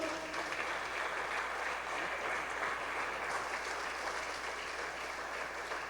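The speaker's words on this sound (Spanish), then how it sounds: "Denle un aplauso al Señor." A church congregation applauds during a Spanish-language sermon, a steady dense wash of clapping held at an even level from start to finish, heard from some distance and fairly quiet, with no voices over it.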